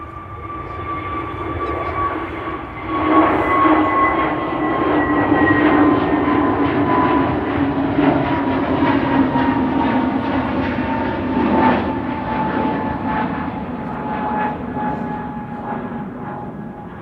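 A Pegasus airliner taxis at Amsterdam Schiphol, bound for Istanbul, with a steady, loud engine whine and rumble that holds throughout, its sustained tones drifting slightly as it moves, with no voices over it.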